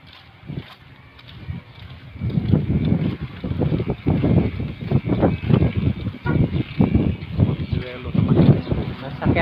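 Wind buffets and rumbles against the microphone in gusts while people talk nearby.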